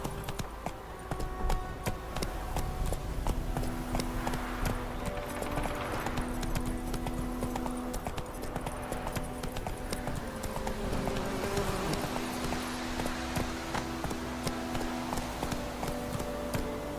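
Roach, the horse in The Witcher 3, galloping with a steady rapid clip-clop of hooves throughout, set against a continuous game soundscape with sustained musical tones and no talking.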